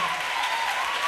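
Congregation applauding during a church testimony service, a steady, dense wash of clapping that fills the whole moment without breaks, with no speech over it.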